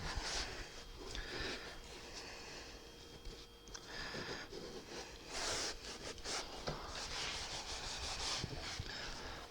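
A glued seam on a 1993 Tracker boat is rubbed out by hand, making a close, continuous scratchy rubbing with uneven strokes and no talk.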